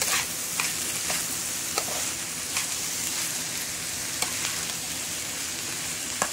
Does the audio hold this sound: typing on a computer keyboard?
no